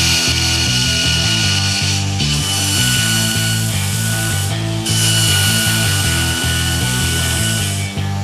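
A grinder working a steel knife blank to remove excess metal, a loud continuous abrasive whine with a steady rhythmic low chugging beneath, brief dips where the tool eases off.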